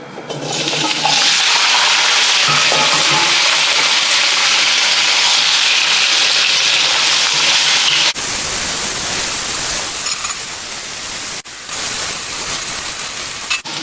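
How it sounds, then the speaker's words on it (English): Loud, steady sizzling and hissing of carrots and potatoes frying in a hot pan, continuous throughout with a brief shift in texture partway. "let's start off by frying carrots and potatoes"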